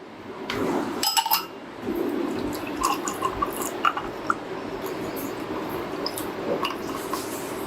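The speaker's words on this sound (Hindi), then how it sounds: "आइस क्यूब्स डाल दूँगी।" Ice cubes drop into a glass for a drink, giving a few sharp clinks and clatters near the start and then scattered lighter taps, close and fairly quiet over a soft background.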